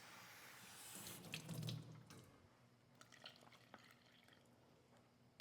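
Hot water runs from a tap into blue corn tortilla mix in a home kitchen, a steady splashing pour that swells for about a second and then tapers into light drips and faint clinks.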